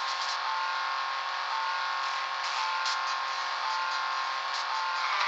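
Steady whirring engine drone of a racing car in a children's car racing video game, a continuous buzzing tone with slight pitch shifts, loud and close, no voices.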